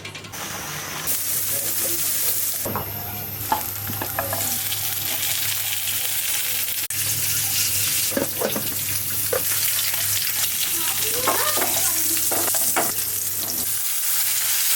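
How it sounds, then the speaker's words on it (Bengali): Eggs are stir-fried (bhuna) in a pan under a steady, loud sizzle, with repeated scraping and stirring strokes of a utensil against the pan throughout, close up and with no talk. "কয়টা ডিম ভুনা করি"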